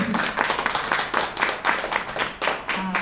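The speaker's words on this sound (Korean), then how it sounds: "다시 한번 박수 한번 부탁드릴게요." Audience at a lecture claps together in a brisk, uneven burst of hand claps, close and fairly loud, with a faint voice briefly audible near the end.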